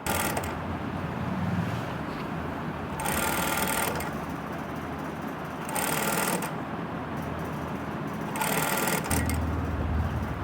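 A sewing machine stitches lace onto a dress neckline in three or four short bursts of rapid whirring, close by, with quiet pauses between runs.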